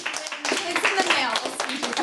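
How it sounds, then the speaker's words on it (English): A small group claps warmly in a short round of applause, close and lively, with voices chattering over the clapping. "We're just going to give you a round of applause."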